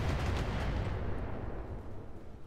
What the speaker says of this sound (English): I'll kill you with a machine gun